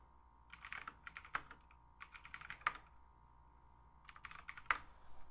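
The sudo apt update command is typed on a computer keyboard in bursts of close, crisp key clicks, with a few louder taps that sound like the space or enter key, in a quiet room without voices.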